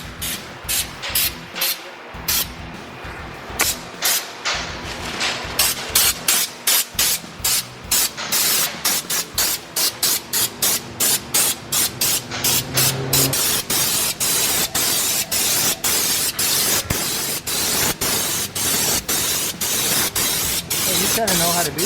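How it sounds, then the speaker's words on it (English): Undercoating sprayed under the replacement floor of a 1970 Plymouth Road Runner, heard as close, loud hissing bursts, first in short rapid spurts, then a long continuous spray, with people talking over it. "doing a little undercoating today"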